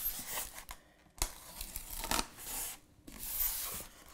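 Scissors snip and tear through the packaging of a Housmile electric pressure cooker in a few quick, close cuts, with crinkling plastic or paper in between, fairly quiet and without talk.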